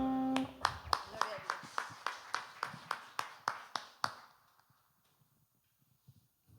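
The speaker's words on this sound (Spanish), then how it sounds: "Denle un aplauso al Señor." A church congregation clapping in unison during a service: about a dozen sharp, evenly spaced claps in a steady rhythm, then the clapping stops and leaves a quiet room.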